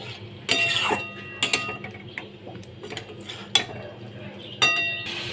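Okra and mixed vegetables are stirred in a pan with Kashmiri chilli powder, giving scattered spoon scrapes and clinks against the metal at an uneven pace, fairly close and moderately loud.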